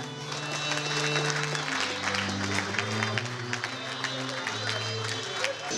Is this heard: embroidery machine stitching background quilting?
no